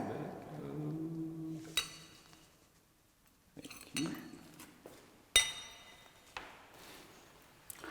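Wine glasses clink several times during a Merlot and Cabernet tasting, with sharp, bright taps spread between softer handling noises and brief murmured talk at the start.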